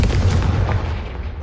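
A Confringo spell from the game Hogwarts Legacy bursts as a single short booming blast that decays quickly, heard alone.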